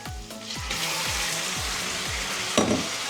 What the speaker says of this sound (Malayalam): പോർക്ക് ഇട്ട് പോർക്ക് ഇട്ടിട്ട് ചെറുതായിട്ട് ഇളക്കുകയാണ്